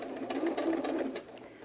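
A sewing machine stitching fabric strips for a hedgehog softie, a close, rapid whirring hum running briefly without pause.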